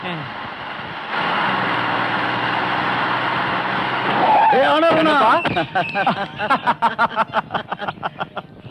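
A road vehicle engine hums steadily as it drives, then rises in a rough revving swell, with voices and laughter breaking in over the motor toward the end.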